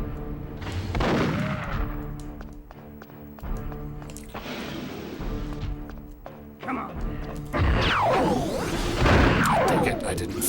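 Gunfire and explosive blasts from the shooter video game Perfect Dark on Special Agent difficulty, several loud bursts and crashes spread across the stretch, with in-game sound effects and sweeping tones between them.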